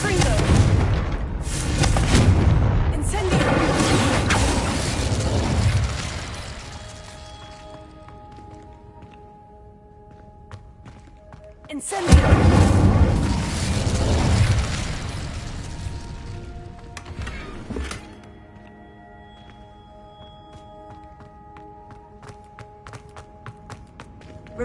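Two heavy fiery spell blasts from the video game Hogwarts Legacy, Confringo and Incendio, each a loud booming burst with a roaring rumbling tail that fades over several seconds, the second starting with a sharp crack.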